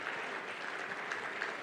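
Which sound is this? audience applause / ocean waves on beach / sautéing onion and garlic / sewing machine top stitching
audience applause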